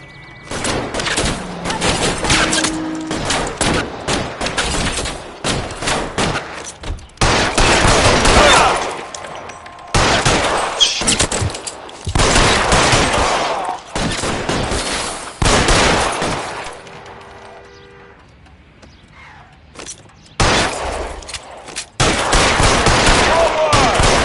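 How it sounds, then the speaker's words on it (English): Rapid bursts of video game gunfire from L.A. Noire ring out in loud, dense volleys separated by short gaps, with a quieter lull near the end before shooting resumes. "Fire a warning round."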